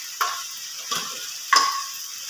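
Curry leaves hit hot oil in three separate bursts of crackling sizzle, each a sharp pop followed by a brief fading hiss, close by and with no talking.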